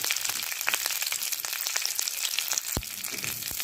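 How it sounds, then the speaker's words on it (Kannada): Curry leaves and three chillies fry in melted ghee in a pan, giving a steady close crackling sizzle with scattered sharp pops and a stir partway through. "ನೋಡಿ, ಅದು ತುಪ್ಪ ಕರಗದ ಮೇಲೆ ಅದಕ್ಕೆ ಕರಿಬೇವಿನ ಸೊಪ್ಪು, 3 ಚಿಲಿ ಹಾಕ್ಕೊಳ್ತಿದ್ದೀನಿ"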